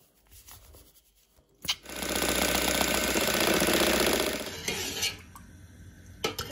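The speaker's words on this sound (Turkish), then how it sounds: "Üstüne 2 paket krem şanti ekleyeceğim şimdi. Sonra çırpacağım." A handheld electric mixer whips cold milk with two packets of whipped cream powder, a steady loud whirring drone lasting a few seconds before easing off, with clatters of the bowl around it.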